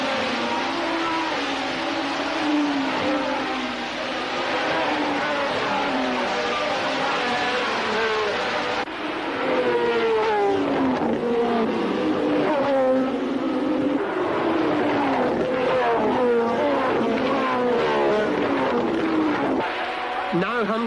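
Formula 1 cars racing at the British Grand Prix at Brands Hatch send a continuous rising and falling engine whine, with several cars overlapping, running steadily under a commentator's voice.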